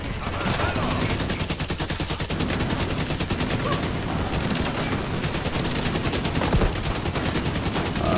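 Dense, rapid gunfire from The Division 2 shooter game: overlapping automatic bursts and shots rattle loud and close, almost without pause, for the whole stretch.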